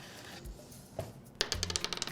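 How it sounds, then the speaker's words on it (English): A die is rolled for a viral TikTok game, tumbling with a quick series of small hard clicks and rattles that settle after about a second, close and alone. "I'm gonna roll the dice."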